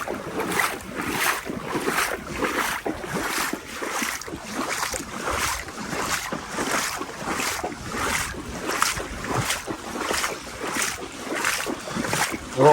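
A boat pushes through deep flood water on the River Bure at Horning, making a steady rushing wash of water with heavy wind buffeting throughout and no talking.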